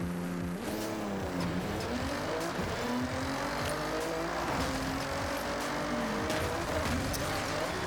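A sports car races at high speed in Forza Horizon 6, its engine note climbing and shifting through gears in a steady, close roar with faint tire noise.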